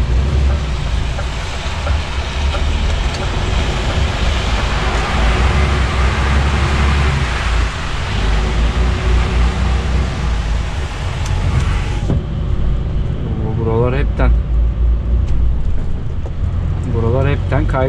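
A DAF truck in a snowy driving game roars with a steady engine drone while its wheels spin and slip on snow, the noise continuous and loud before dropping to a lighter rumble, with someone talking over it near the end.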